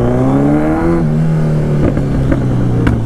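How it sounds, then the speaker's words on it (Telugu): A Kawasaki Z900 motorcycle starts and its exhaust revs with a steady, loud engine drone, then a few sharp pops and crackles burst out near the end. "క్రాకిల్స్ అయితే అసలు వేరే లెవెల్లో వస్తున్నాయి దీనివి"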